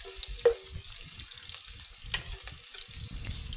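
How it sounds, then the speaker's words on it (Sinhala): Chilli flakes, onion and sugar fry in a pan while being stirred, making a soft sizzle under repeated scraping and clicking strokes, close and moderately quiet, with no voices. "කලවම් කරලා ටිකක් රන් පාට වෙනකන් වගේ බැදෙන්න දෙන්න ඕනේ."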